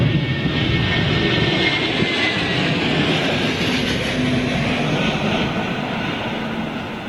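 An airliner arriving on runway 27L at London Heathrow during Storm Ellen, a loud broadband engine roar mixed with gusting wind that fades slowly toward the end.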